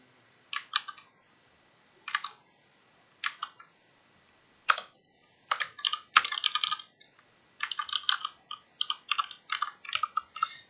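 Computer keyboard typing during a game-development session, arriving in short irregular bursts of crisp clicks separated by brief pauses, fairly close and clear with no talking.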